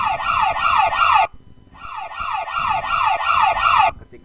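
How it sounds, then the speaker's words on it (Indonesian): An ambulance siren wails loud and close in a rapid repeating up-and-down pattern, breaks off briefly, then resumes with the same fast cycling tone, as in a Doppler effect animation. "Kita yang pertama yaitu ada ambulan dari belakang."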